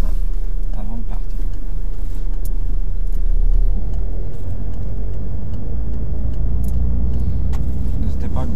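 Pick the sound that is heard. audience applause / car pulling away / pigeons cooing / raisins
car pulling away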